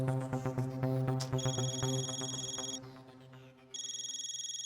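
A phone ringtone plays a loud, steady electronic melody for an incoming call from Popat uncle, with a bright repeating tone that stops briefly and then starts again.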